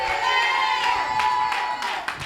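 A church congregation cheering and clapping in worship, a dense wash of applause and raised voices over sustained music, loud and continuous.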